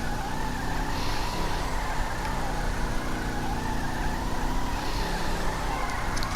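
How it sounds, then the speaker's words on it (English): An Albany Lurcher in GTA Online drifts and spins donuts, its game engine droning continuously while tires squeal and skid underneath, a steady, full-volume wash of car noise with no speech. "We can do some decent drifting. Donuts."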